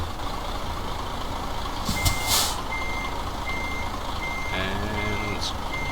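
Truck reversing beeps in Euro Truck Simulator 2, a few spaced high beeps over a loud steady engine rumble, with a brief hiss of air brakes near the middle.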